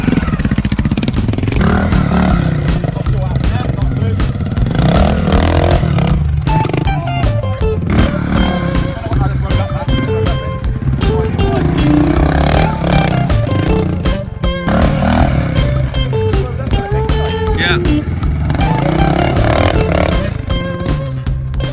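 Honda Montesa RT trials motorcycle tackling an obstacle, its engine loud and close throughout with repeated revs and throttle blips, plus clattering of the bike against the ground.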